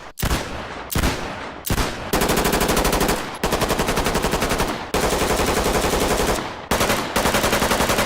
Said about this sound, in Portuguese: fazendo com que os tiros sejam altos, chocantes e desconfortáveis para você.